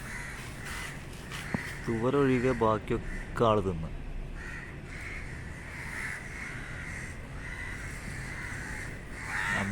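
A crow caws repeatedly in a rapid series of harsh calls near the start, then falls quiet while a person talks over steady outdoor background noise; the crow's chick had just been eaten by a dog.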